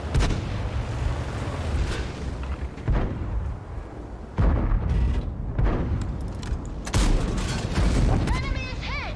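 Heavy tank cannon shots and impact booms from World of Tanks thud in repeatedly, each a loud broadband blast with a rumbling tail, while someone talks over the battle.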